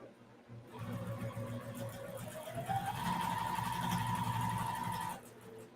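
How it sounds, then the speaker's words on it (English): Sewing machine stitching cotton nine patch quilt pieces, a steady close whir that starts, runs for about four and a half seconds with its pitch rising midway, then stops. "I'm going to take this one and stitch it."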